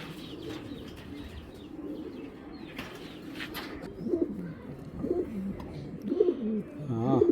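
Racing pigeons coo in soft, throaty bursts that grow more frequent in the second half, close by, with faint background voices and light rustling.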